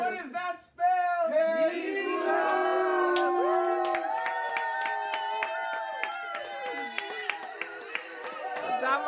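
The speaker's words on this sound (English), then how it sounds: "Adama's clapping." A child claps along at a family birthday party just after the birthday song, the small hand claps mixing with voices and a shouting, cheering crowd of family members throughout.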